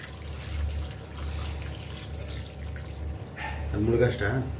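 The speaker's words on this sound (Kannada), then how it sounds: "ಇವಾಗ ಇದಕ್ಕೆ ನೀರು ಹಾಕೋದು" Water splashes into a pan of fried head-and-trotter mutton for a Gowda-style sambar, a steady noisy pour under a person talking, growing louder toward the end.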